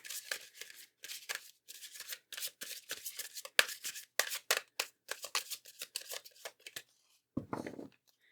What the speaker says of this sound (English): let's draw your tarot cards on screen like I like to do typically in my videos.